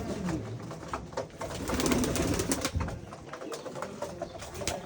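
Silver Bajra pigeons coo nearby while others flutter, a busy mix of low cooing and brushy wing flaps, loud and continuous.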